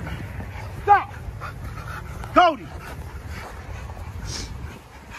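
A dog gives two high, rising whimpers a second or so apart, with soft panting and shuffling noise between them.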